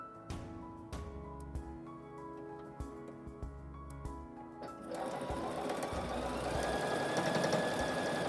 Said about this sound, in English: Now, instead of starting and stopping, I'm going to now sew these two together.